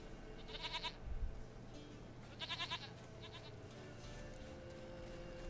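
Goats bleat in The Witcher 3 video game, two or three wavering bleats in separate bursts over steady background ambience, fairly close and moderately loud.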